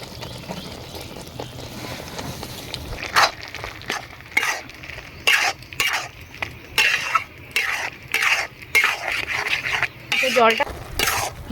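A spoon stirs pointed gourd bhorta, seasoned with salt and turmeric, in a pan as the water cooks off, making repeated scraping clinks against the metal with a faint sizzle beneath.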